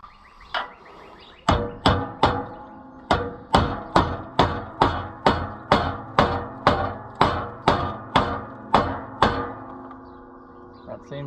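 Scrapers on a White 5100 planter give a steady series of about fifteen loud, evenly spaced metallic clanks with ringing tails, close by and without talk.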